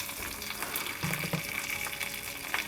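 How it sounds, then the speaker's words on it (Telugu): Mustard seeds dropped into hot oil in a kitchen while cooking Andhra dibba rotti and chutney tempering, giving a faint, steady sizzle with scattered light crackles and pops, with no talking. "ఆవాలు ముందే వేయాలి, మర్చిపోయాను, ఇప్పుడు వేస్తున్నాను."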